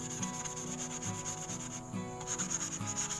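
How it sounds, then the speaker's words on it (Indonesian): Steady back-and-forth sanding with 150-grit sandpaper on an old cutter, rough scratchy strokes repeating in a regular rhythm, close and fairly quiet, with no talking. "lanjut kita amplas sampai benar-benar bersih ya"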